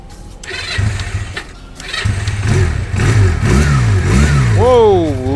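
A Pantagonian Eagle 250 parallel-twin motorcycle engine starts and revs up close, its loud even burble climbing through a few sharp throttle blips, with a voice speaking over it.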